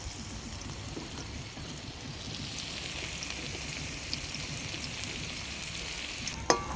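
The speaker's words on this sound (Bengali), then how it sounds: "ওতে বেগুন ভেজে নেব।" Eggplant sizzles steadily in hot oil, a dense close-up crackle and hiss that holds throughout, ending with a sharp utensil clink.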